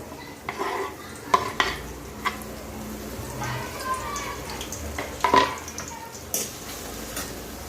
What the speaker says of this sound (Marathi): तो घालून घेऊ आणि छान असं मस्त फ्राय करून घ्यायचा आहे कांदा